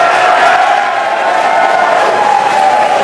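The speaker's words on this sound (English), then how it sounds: "Very exciting day, as you can hear the crowd behind me." A large crowd cheers and shouts continuously and loudly at a SpaceX Dragon cargo capsule launch to the space station, a sustained roar of voices with whoops and no pauses.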